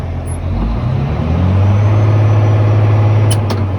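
A Caterpillar 988G High Lift wheel loader's diesel engine revs up loud and close, a deep steady roar that rises and holds, with a brief hiss near the end.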